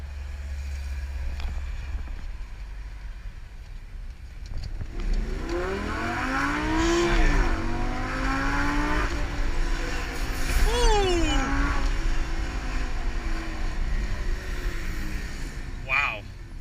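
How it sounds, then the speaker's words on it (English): A Lamborghini sports car accelerates with a rising, falling and rising engine pitch over steady road and wind roar, heard from inside the car while people talk. "I'm actually going to include a portion of that drive right now"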